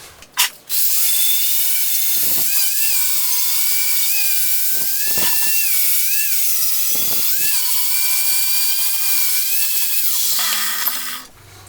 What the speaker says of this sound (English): I'm going to use a poly disc. You know, strip and clean disc and a grinder.